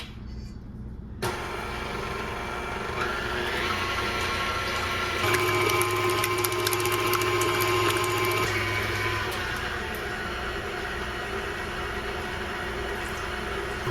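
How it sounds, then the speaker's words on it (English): Stand mixer starting up and mixing gingerbread dough, a steady motor whir and churning hum that begins after a brief quiet start and runs continuously, with a lower drone in the middle stretch. "So let's get the mixer started."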